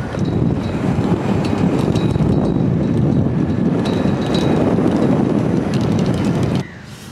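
Strong wind buffets the microphone on a golf course at Dubai Creek in a loud, continuous roar that cuts off abruptly near the end.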